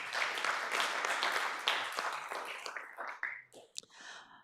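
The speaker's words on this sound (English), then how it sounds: "let's give Dr. Wheeler a round of applause" A board of trustees meeting audience gives a round of applause for an honors advisor, moderate clapping that thins out and fades over about four seconds, with scattered last claps and faint murmurs at the end.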